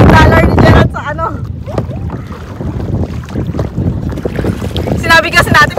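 A bangka boat moving across water in the Philippines, with engine-like rumble and wind noise, under people talking loudly nearby.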